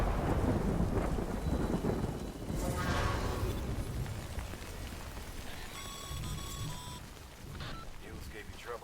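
In Death Stranding, heavy rain pours down while thunder rumbles loudly at the start, then the downpour continues under a brief high electronic tone and faint voices.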